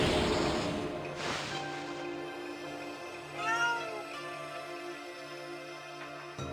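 A calico cat in the video game Okami HD meows once, clear and fairly close, over a soft sustained musical drone in the game soundtrack.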